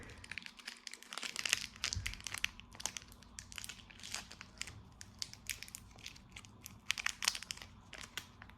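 Plastic wrapping around a new iPad 9th generation crinkles and crackles up close as it is pulled off during unboxing, with dense, continuous rustling and sharper snaps scattered throughout.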